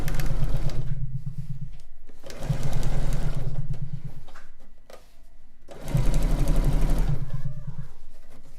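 A home sewing machine stitches a quilt-block seam in three steady whirring bursts, each a couple of seconds long, separated by short pauses.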